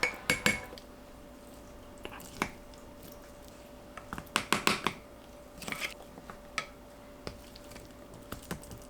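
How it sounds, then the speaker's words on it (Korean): Intermittent clinks and scrapes of a utensil against a bowl while mixing garlic with doenjang soybean paste, with bursts of quick clatter between quieter pauses. "마늘 버무리면서 볼에 묻은 된장까지 싹싹 긁어넣고"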